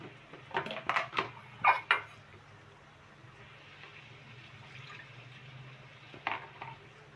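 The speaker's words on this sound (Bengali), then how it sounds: "একটু জল দিয়ে দিলাম কষাবার জন্য" Water is poured into a pan of cooking pointed gourd curry: a few clinking, splashing hits come near and distinct at the start, then fade into a soft, low simmering background.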